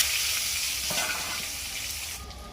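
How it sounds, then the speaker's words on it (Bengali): Potatoes fry in hot mustard oil in a wok, a steady broadband hiss with a bubbling, water-like crackle throughout, close and fairly loud with no talking. "তেলের মধ্যে আমি আলুটাকে ভেজে নেব।"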